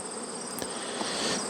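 Honey bees buzz steadily and close around hive frames in a nuc, a dense unbroken drone with no voices.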